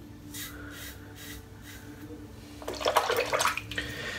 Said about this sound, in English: having to put any effort into actually cleaning the razor, just a quick whish through the water and boom, it's gone.